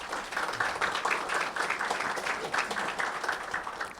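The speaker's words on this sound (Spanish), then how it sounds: "les pido un fuerte aplauso para él." Moderate crowd applause at an industrial ammonia refrigeration seminar welcoming engineer Juan Wambachano, a continuous patter of many hands heard at middling distance without talk.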